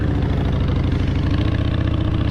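Harley-Davidson motorcycle engine idling on a New York City street, a steady low throbbing rumble with an even pulse, loud and close throughout with no talk over it.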